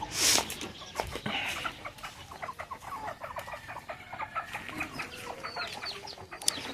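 Chickens cluck and chatter on and off at moderate distance, with scattered short calls over a quiet background.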